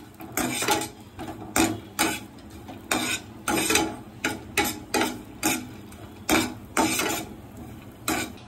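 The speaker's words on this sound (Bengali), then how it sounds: "ড্রাই ফ্রুটসগুলি ঘিয়ে ভালো করে ভেজে নিলে টেস্টটা খুব ভালো হয়" Dry fruits fry in ghee in a pan while a spoon stirs them, giving a brisk, regular series of metallic clinks and scrapes about twice a second against a faint background.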